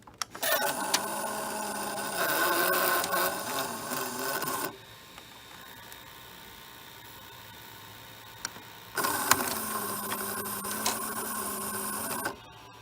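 A Toshiba M-2200 VCR from the 1980s runs in play with faulty video heads, its motor and tape mechanism giving a loud whirring drone that stops for several seconds and then starts again.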